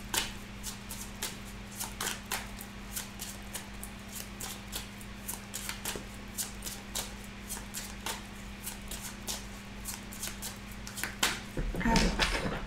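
Tarot cards being shuffled close by, a long run of crisp rhythmic riffling snaps over a steady low hum, with no talking.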